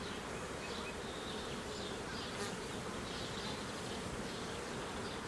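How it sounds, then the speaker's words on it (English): Honey bees buzz in a dense, continuous drone inside a hive during a suburban swarm transfer, a steady hum with a few nearer individual bees flitting past. "There's a goodly number of bees in here"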